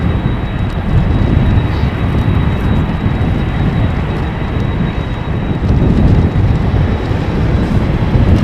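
A Suparna Boeing 747 lined up at the runway threshold at Amsterdam Schiphol Airport gives a steady, distant jet engine roar mixed with wind buffeting the microphone, with no one talking.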